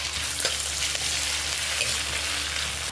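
Shrimp cook briefly in a hot pan, giving a steady, moderate sizzle with a few light clicks of a utensil stirring.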